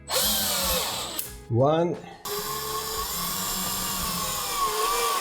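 A power drill drives small screws into a 3D-printed shelf with two close, loud whirring bursts, the second rising in pitch, while a person talks over it.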